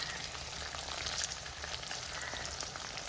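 Small shallots and garlic fry in oil for a Kerala chammanthi, giving a steady, soft, continuous sizzle with faint crackles throughout.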